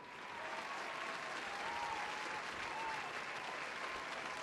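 An audience claps steadily and loudly, the sustained applause swelling slightly and holding for several seconds without a break.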